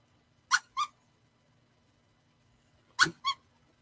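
Two pairs of short, sharp squeaks, each pair a quick double chirp, separated by a few seconds of near silence, close and clear.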